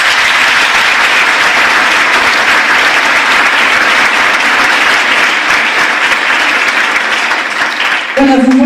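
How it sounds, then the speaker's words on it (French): A crowd at a New Year's wishes ceremony applauds loudly as a trophy is handed to a local sportsman, a thick continuous clapping that fades slightly near the end before a voice cuts in. "On peut encore l'applaudir."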